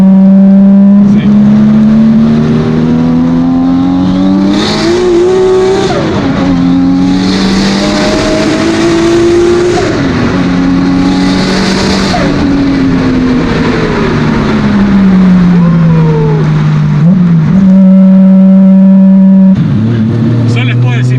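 Nissan Skyline GT-R R33 engine revving up and pulling hard while driving, loud and close, with rising and falling pitch through gear changes, under excited talk from the occupants.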